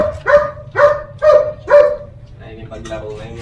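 A Belgian Malinois puppy gives four quick, high yapping barks in an even rhythm, close by, and then people start talking.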